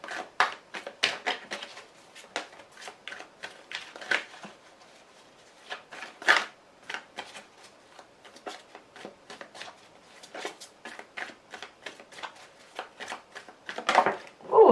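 Tarot cards being shuffled and handled in a series of quick, crisp riffles and taps, fairly close and at moderate level, with no talking over them.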